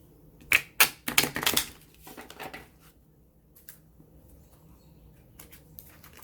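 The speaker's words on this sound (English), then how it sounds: "Go ahead and do a couple of quick shuffles." Oracle cards riffled in a few quick shuffles, a cluster of sharp papery flutters and snaps up close, then softer scattered card taps trailing off.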